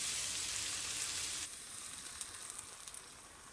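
A moussaka mixture sizzles loudly in a saucepan over the heat, then drops to a softer, steady crackle and bubbling after about a second and a half, near and alone.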